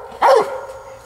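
A coonhound gives a single loud, close bark at a raccoon treed high above at night, the sharp yelp ringing briefly before fading.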